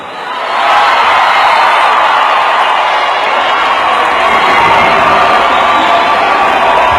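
A large, loud crowd jeers and shouts in a continuous roar that swells in within the first second and then holds steady, with mixed voices and some cheering in the mass of sound.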